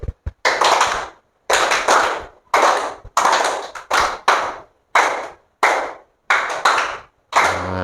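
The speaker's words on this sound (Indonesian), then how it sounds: "tepuk tangan dulu ya" A classroom group claps in rhythmic bursts, eight or nine short rounds of hand clapping separated by brief pauses, close and loud with no talking.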